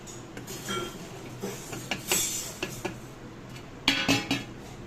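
Spices and sugar being stirred together in a bowl for mango kasundi, with a spoon clinking and scraping against the bowl in irregular bursts, close by and with no talking.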